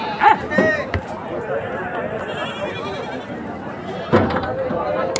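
Goats bleat at a large goat market in Vindhamganj, Uttar Pradesh: a wavering cry near the start and another around the four-second mark, amid steady crowd bustle and someone talking close by.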